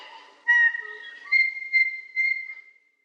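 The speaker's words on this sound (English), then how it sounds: "The tui is a beautiful native New Zealand bird." A tui, a native New Zealand bird, gives a clear call of pure whistled notes and short chirps in several bursts. The call is close, and nothing else is heard.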